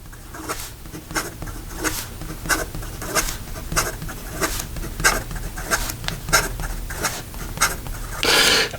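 Quick scratchy strokes of a Conklin Mark Twain fountain pen nib on paper, a rapid run of short rasping scrapes and taps in close, steady succession.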